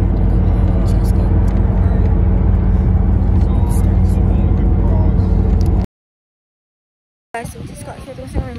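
Steady interior car engine and road rumble while driving, loud and continuous, cutting to silence before a short burst of busier noise returns at the end; speech is present over the drive.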